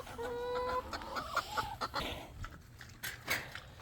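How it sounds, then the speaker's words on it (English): Chickens let out of their coop cluck and squawk in a rapid, irregular series of short calls at moderate distance, over a soft background of outdoor noise. "Let out the chickens and see what's going on here."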